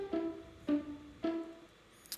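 Plucked string notes from an electronic dance track, three bright, sharply struck chords in a steady rhythm, each ringing briefly and decaying, heard alone and clearly up front.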